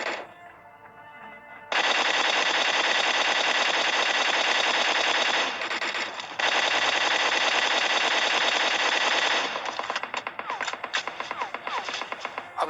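Rapid automatic gunfire in a battle royale video game: long sustained bursts of rattling shots, loud and close, with a short pause and then sharper broken shots at the end, no voices.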